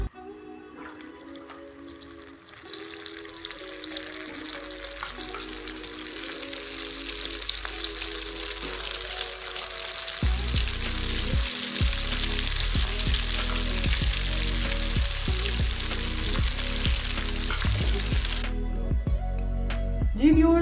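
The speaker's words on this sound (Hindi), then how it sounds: "जो रिमेनिंग हमारे पास गोभी है उसे भी अंडे में डिप करते हुए फ्राई करते" Egg-dipped cauliflower pieces fry in hot oil with a constant bright sizzle, which grows louder partway through as more pieces go in. Tonal background music plays throughout.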